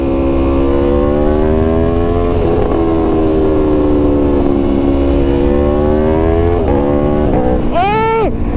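An Aprilia Tuono V4 Factory motorcycle revving loud and close, its engine tone sliding and dipping through quickshifter downshifts, ending in a sharp rising and falling blip.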